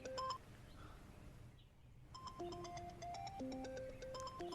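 A mobile phone rings in a domestic drama scene, a brief tone at the start, a pause, then a looping electronic melody of short beeping notes, moderately clear with faint room noise.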